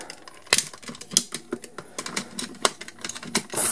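Plastic legs of a Power Rangers Megaforce Gosei Ultimate Megazord toy popping off and being swung around, giving a string of sharp, close clicks and snaps at an irregular rhythm with no talking.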